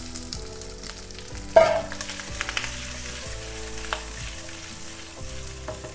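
Cubed vegetables dropped into a hot kadhai with cumin, giving a sudden loud splash of sizzling followed by steady frying crackle and occasional stirring clinks, close up with no talking.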